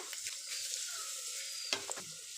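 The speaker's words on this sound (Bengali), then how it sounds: "আমি এখন দুটো শুকনো লঙ্কা দিয়ে দেব তেলের মধ্যে" Dried red chillies and a bay leaf frying in hot oil in a pan, a steady close sizzle with a brief clink of stirring near the end, no talk.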